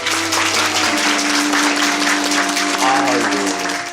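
A studio audience on a Korean talk show applauds, a dense continuous wash of clapping at steady loudness, with voices and a tonal musical layer running underneath throughout.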